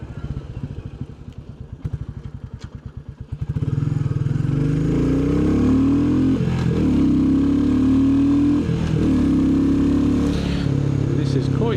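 A Royal Enfield Bullet 350 motorcycle on a country road, its single-cylinder engine thumping at a slow idle-like beat before opening up into a steady, loud drone under way, with speech heard over it.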